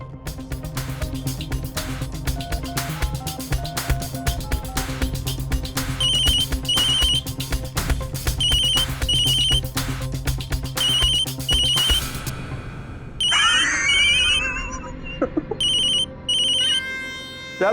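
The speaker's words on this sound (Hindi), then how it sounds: "फोन नहीं उठा रहा।" A phone rings on and on with nobody answering, a repeating electronic ringtone melody over a steady music bed, loud and continuous, with brief gaps near the end and no voices.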